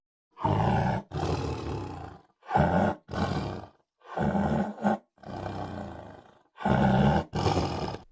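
A series of loud lion or tiger roars, about six to seven separate bursts with short pauses between them, each a deep, rough growl heard up close and on its own with no talking.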